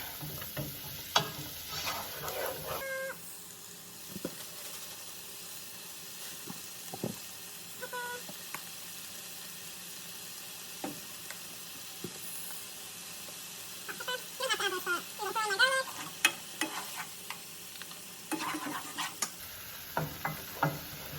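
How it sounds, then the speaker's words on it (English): Garlic sizzles in oil for a white wine sauce, a steady soft frying hiss with occasional light stirring clinks and scrapes of a utensil in the pan. "I'm just gonna make an just an oily garlic kind of sauce with a white wine"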